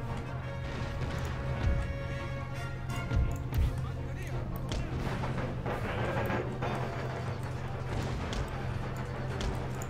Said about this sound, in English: get one of my howitzers just to keep shooting at them